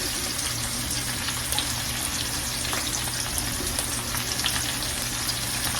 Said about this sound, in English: the vegetables here are going to fry up a little bit